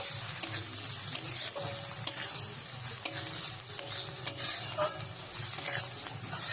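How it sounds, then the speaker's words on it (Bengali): Continuous sizzling of chopped garlic and onion frying in a pan, with repeated scraping strokes of a spoon stirring through it at close range. "রসুন কুচিগুলো দিয়ে দেবেন দেওয়ার পর একটু নাড়াচাড়া করবেন"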